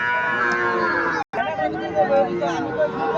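A Sahiwal calf moos loudly and close by at a busy cattle market in Comilla, with crowd chatter and voices around it throughout.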